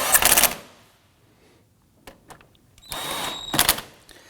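Power tool snugging down O2 sensor bolts on a 2015-2024 Nissan Murano with a 3.5L V6, two short close whirring bursts separated by a pause with faint clicks and handling noise.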